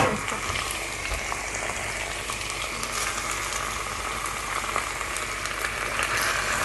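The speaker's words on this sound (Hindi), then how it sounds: "अब इसमें ये चिकन ऐड करूँगी और जब तक ये प्रॉपर कुक नहीं हो जाता" Chicken frying in masala for yakhni pulao, a continuous moderate sizzle and bubbling in the pot, steady throughout with faint stirring, no talking.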